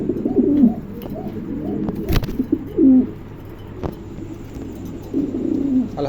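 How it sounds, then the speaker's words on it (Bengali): Pigeons coo in soft, repeated throaty rolls, close by, in short bursts with pauses between them, a sharp knock partway through and faint background hum. "চমৎকার একটা কবুতর, ভালো লাগলে অবশ্যই সংগ্রহ করতে পারেন"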